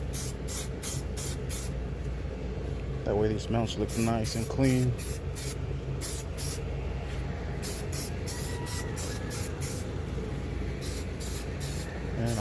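An aerosol spray can hisses paint over engine motor mounts for a K20 engine swap, a steady close hiss running through the clip beneath a voice talking.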